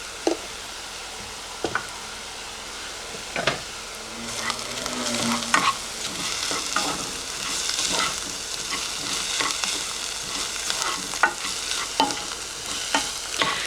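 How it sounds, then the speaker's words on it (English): Risotto rice toasts in melted butter in a pan, giving a steady soft sizzle broken by scattered light knocks and scrapes of stirring, close up with no talking. "This is the risotto, and you want it to toast in the butter."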